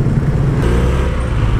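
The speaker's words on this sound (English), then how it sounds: "It's crazy ass traffic!" Heavy street traffic of motorcycles and cars on a road crowded with counterflowing bikes, a loud close engine rumble that goes on without a break and swells slightly.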